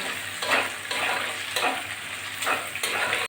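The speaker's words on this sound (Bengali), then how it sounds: "আমি একটা দিলাম আলুর সঙ্গে ভালো করে মিশিয়ে ভেজে নিচ্ছি গুঁড়ো করে" An egg fries with potatoes in oil, mixed and broken up in the pan for chicken noodles; a constant sizzle is punctuated by regular scraping stirring strokes about once a second.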